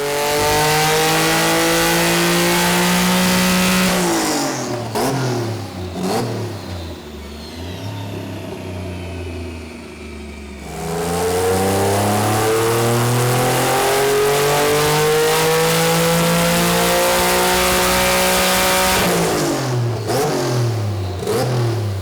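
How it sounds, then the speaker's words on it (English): A Nissan VR38 V6-swapped R34 Skyline GT-R on a dyno at 7 psi boost revs hard and climbs through the gears, drops to a lower rumble mid-way, then roars loudly again in a long sustained run. "Our first dyno pull on 7 psi and very little timing"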